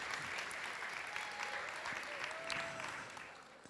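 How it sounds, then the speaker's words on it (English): Audience applause for Leah Walker at a 2013 youth culminating event, a steady wash of clapping from a crowd that holds evenly and tapers near the end. "let's give her a round of applause as well"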